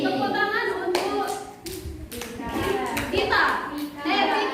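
A classroom of children clapping together for a student in a steady patter, with young voices chattering underneath.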